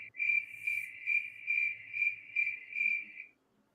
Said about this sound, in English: Just the crickets.